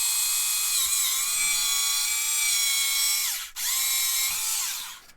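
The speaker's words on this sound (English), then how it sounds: "he's just drilled a hole in a Star Wars kit" A small high-pitched drill boring a hole in a plastic Star Wars model kit, with a steady whining tone that dips twice as the bit bites into the plastic, close and loud with no talking.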